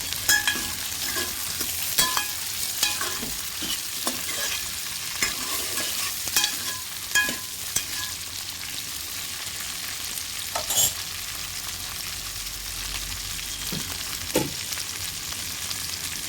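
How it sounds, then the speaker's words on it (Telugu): Okra pieces frying in oil for okra pulusu give a soft, continuous sizzle, broken by scattered clicks and scrapes of a stirring spoon against the pan. "బెండకాయలు కూడా చక్కగా మగ్గాలండి నూనెలో బాగా ఫ్రై అవ్వాలి"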